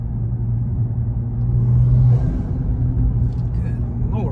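Tuned 2022 BMW M240i pulling under light throttle, a low steady engine drone and road rumble from inside the cabin while people talk over it.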